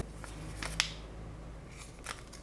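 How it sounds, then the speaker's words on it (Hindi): Plastic wrap is peeled from an Apple AirPods Pro box with its pull tab, giving faint, brief crinkles and one small sharp snap in a quiet room. "यहाँ पे भी आपको पुल टैप मिल जाता है, तो कुछ इस तरीके से आप इसकी पॉलीथीन को हटा सकते हैं।"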